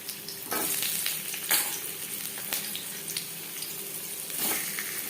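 Potato pieces for aloo chicken curry frying in hot oil, a dense steady sizzle with occasional louder bursts and stirring clatter, close and continuous without any speech.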